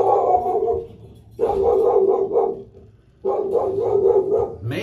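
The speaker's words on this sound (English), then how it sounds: "My dog is letting me know." A dog inside a house barks and whines in two long bursts, alerting to someone at the door. The barks are fairly close and loud, with quieter gaps between the bursts.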